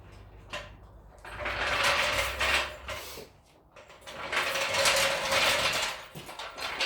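A ratchet or impact tool clicks and whirs in two bursts while the wheel lugs are tightened on a 1987 Dodge D-100 pickup being lowered, close-up, with a short pause between bursts.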